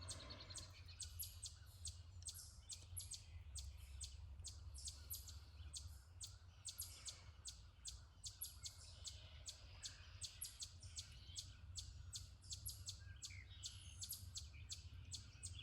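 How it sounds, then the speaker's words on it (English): Many birds chirp in quick, repeated tweets over a low, steady background rumble, busy and continuous throughout, on a morning in Pennsylvania with chipmunks also chirping. "I hear chipmunks chirping and birds chirping"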